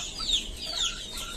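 Chickens with a mild cold cluck softly at close range, a few short, high calls over a low, steady background.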